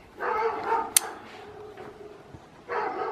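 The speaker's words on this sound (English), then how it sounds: "neighborhood dogs are going berserk" A dog barks a couple of times at moderate distance, with a sharp click and faint background noise between the barks.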